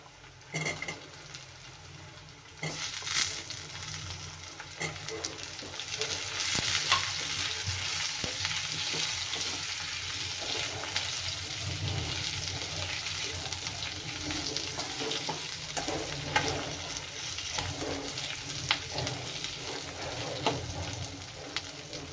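Brinjal pieces frying in a pan and being stirred, a steady sizzle that jumps louder after a few seconds as the eggplant goes in, with scraping stir sounds throughout and no speech.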